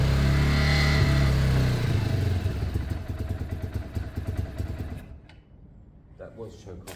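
Piaggio Fly 100 scooter engine running with the choke turned off, a loud steady hum that drops into uneven, chattering running before cutting out near the end, heard close.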